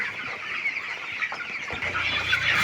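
Broiler chickens on a farm clucking, a cluster of soft overlapping clucks and chatter heard at close range, continuous and moderately loud over a faint low background hum.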